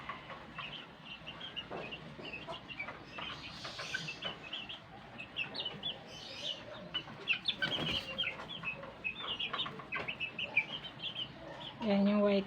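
White Kelso gamefowl roosters cluck and scuffle as they chase each other: scattered, irregular clucks and calls, fairly faint, over a light background, with a voice at the very end.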